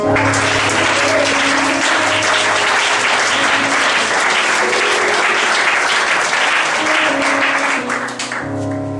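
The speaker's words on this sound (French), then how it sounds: "Acclamons Jésus." A church congregation applauds loudly and continuously for several seconds, dense clapping that tapers slightly at the end.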